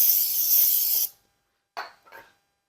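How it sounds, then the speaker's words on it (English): Brake cleaner sprayed onto an oily brake rotor during a brake job: a loud, steady hiss of spray for about a second, then silence, followed by two short rubbing swipes of a rag wiping it off. "clean this up using the brake cleaner, because this one has some oil in it to prevent it from rusting"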